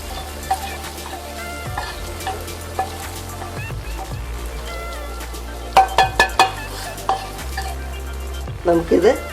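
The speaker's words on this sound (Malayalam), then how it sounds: "നമുക്കിത് ഇളക്കി ചേർക്കാം" Fried coconut being stirred into a Kerala pumpkin erissery curry in a pot, with scraping and clinking spoon strokes over a low steady simmer and several sharper metallic knocks near the end; no talking.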